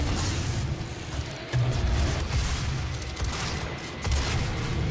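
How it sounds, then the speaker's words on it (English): Rocket launcher fire in DOOM, a quiet run of muffled blasts and booms with low thumps landing about every second or so, rumbling combat noise between them. "Let's go back to the rocket launcher."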